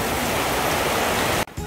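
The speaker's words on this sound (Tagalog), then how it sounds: "Ito na po yung pinakamalakas at mahabang ulan ngayong buong taon" Heavy rain pours down over a backyard vegetable garden in a dense, loud, even hiss, then cuts off abruptly near the end.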